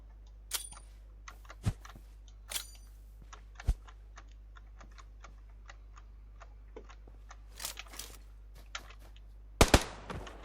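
Gunfire in the video game PUBG Lite, heard as sparse sharp shots scattered over a quiet background, with a brief cluster of loud shots near the end, mixed with faint keyboard clicks and ticking.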